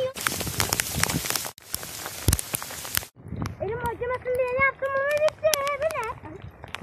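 Rain pouring down outdoors in a village, a steady broadband hiss through the first three seconds, followed by voices and sing-song talk over the continuing patter.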